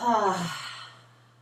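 A deep, slow cleansing breath let out during a relaxation exercise, a single breathy, voiced sigh, close and clear, fading away over a second or so.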